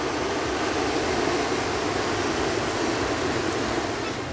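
Rough, choppy sea surf off the coast at Galle, Sri Lanka, churned up and murky after rain, keeps up a loud, steady broadband roar of breaking waves with no letup across the whole stretch.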